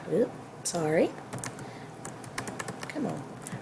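Fingers typing a folder name on a computer keyboard, a short run of quick light key clicks at close range, interleaved with a voice speaking over them.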